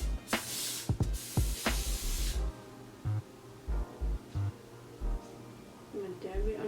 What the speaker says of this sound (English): Actually, I'm gonna spray it on my finger.